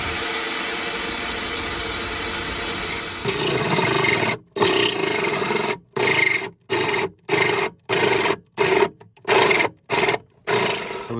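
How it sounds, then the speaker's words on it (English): A 4¼ inch hole saw grinds through an aluminum truck floor on a Peterbilt 389, starting with a continuous rasping cut, then breaking into a rapid series of short bursts with abrupt stops, close and loud. "what we're using is a 4¼ inch hole saw"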